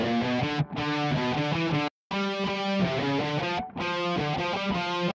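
Distorted electric guitar plays driving hard rock chords in a steady rhythm, with brief gaps between phrases, loud and alone.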